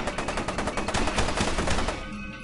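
Pistol fire in the shooter game FEAR 2, heard as a rapid, evenly spaced string of loud shots, about a dozen, that stops abruptly near the end.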